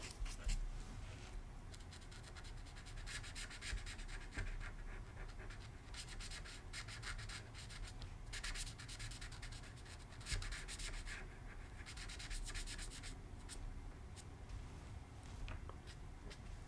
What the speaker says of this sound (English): that was colored pencils and a blender pen